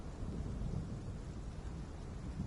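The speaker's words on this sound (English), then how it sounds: "We picked a rainy season?" Rain falls steadily during the rainy season in a Utahraptor dinosaur survival video game, a dense wash with a low thunder rumble rolling underneath throughout, no voices.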